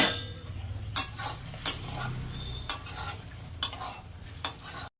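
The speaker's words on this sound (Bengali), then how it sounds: "আলুগুলো একটু কষিয়ে নেব" Potatoes with turmeric and a little jaggery are stirred in a pan for an egg curry: a spoon scrapes and knocks against the metal about every second over a low, continuous sizzle, close and moderately loud, with no voices.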